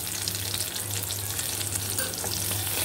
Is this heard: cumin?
yes